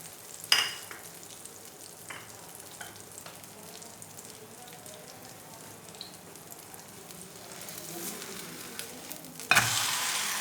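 Wheat-flour flatbread frying in oil on a pan, a quiet continuous sizzle with scattered soft clicks and a sharp clatter at the start and near the end, no talk.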